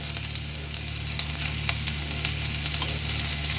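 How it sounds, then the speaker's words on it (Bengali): Chopped potatoes and onions frying in oil in a pan give a continuous close sizzle, with scattered crackles and pops throughout and no talking. "আলুটা একটু ভাজা ভাজা হয়ে গেছে"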